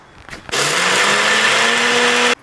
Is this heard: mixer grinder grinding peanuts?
yes